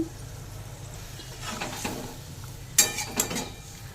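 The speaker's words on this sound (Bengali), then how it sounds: "একটু নেড়ে নিলাম।" Fish curry stirred in a pot, soft scraping and swishing strokes building up, then a couple of sharper metallic clinks of the spatula against the pot rim near the end.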